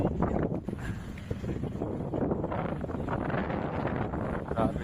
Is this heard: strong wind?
yes